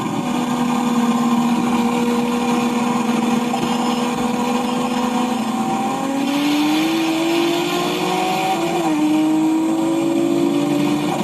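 A single-turbo car with an aftermarket ECU and fuel system drones steadily as it slows in traffic, its engine note holding, then shifting in pitch through gear changes, loud and close with no voices.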